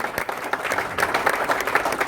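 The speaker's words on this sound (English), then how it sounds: "Big round of applause, ladies and gentlemen." An audience at a fight-night press conference for Matrix Fight Night 8 breaks into sustained applause, a dense crackle of many hands clapping at a steady level, with a few sharper claps standing out.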